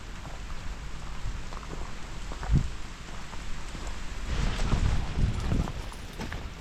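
Rain falls steadily during an outdoor dog walk, a soft continuous patter with heavier thuds and rustles swelling toward the end.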